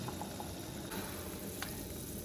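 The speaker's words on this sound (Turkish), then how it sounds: "Şerbetimiz tam tamına yaklaşık 10 dakikadır kaynıyor." A pot of sugar syrup bubbles and simmers at a steady, quiet level, with no voices.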